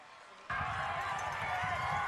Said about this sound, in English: So cheering on one side of the stands, booing on the other.